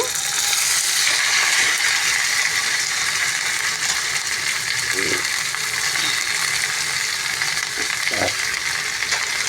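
Tempering spices frying in a pan for raw mango rasam, a steady close sizzle throughout with a few faint knocks and stirring clinks.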